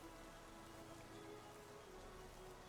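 Steady rain falling in a Pokémon battle after Pelipper's Drizzle sets the weather, a constant soft wash of drops with a faint low rumble, no voices.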